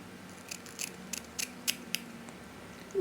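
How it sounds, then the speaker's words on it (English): Scissors snipping through wig lace in a quiet room, a series of short crisp cuts spaced irregularly, close and fairly soft, with no voices. "We are gonna cut the lace."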